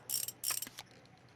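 Bolts being backed out of a motorcycle tank cover in Motorcycle Mechanic Simulator: two quick bursts of bright ratcheting clicks, close and crisp, each lasting about a third of a second, followed by quiet.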